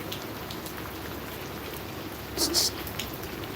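Rain falls steadily as a constant hiss of drops on surfaces outdoors, with a brief louder splash or clatter partway through.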